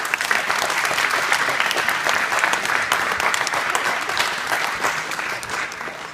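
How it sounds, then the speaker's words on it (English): A keynote audience breaks into a full, even round of applause, loud and continuous from start to finish, thinning slightly toward the end with no voices standing out. "let's give a nice round of applause to Huan"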